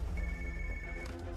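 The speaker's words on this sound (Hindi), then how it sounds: "तुम ALX ऑफिस को फोन करो" A telephone rings in an office, a steady electronic ring tone held for about a second over a low background hum, with no voices.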